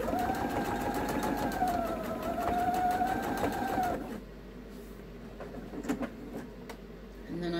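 A sewing machine runs steadily while quilting the bottom of a quilt, a continuous near whirring hum for about four seconds before it stops, leaving quieter room sound with a few light clicks.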